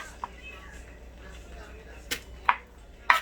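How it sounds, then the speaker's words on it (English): A knife chops tomatoes on a board while tacos dorados with potato are prepared, giving a few sharp, separate knocks spaced out over a low background, without clear talk. "Alright, so we chopped up 2 tomatoes."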